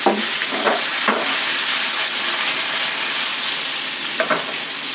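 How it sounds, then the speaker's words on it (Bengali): Large koi fish, some cut through the middle, fry in a pan with a loud, continuous close sizzle and a few scraping stirs near the start and end. "এই যে দেখেন মাছগুলো কি সুন্দর ভাজা হয়ে গেলে"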